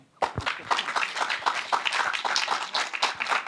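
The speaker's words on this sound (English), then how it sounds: "this applause was in place" Audience applause welcoming Marcel Schwierin, a guest interviewee at an IMPAKT event, starting abruptly after a brief thump and continuing as a dense, steady wash of many hands clapping at close-to-moderate distance.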